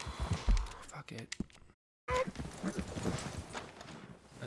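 Horse hooves clip-clopping on the ground in Red Dead Redemption 2, a steady uneven walking rhythm beneath near, loud talking, broken by a brief silent gap partway through.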